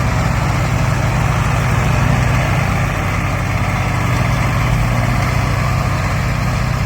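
A Massey tractor engine runs steadily and loud close by, a continuous low rumbling drone with no pauses.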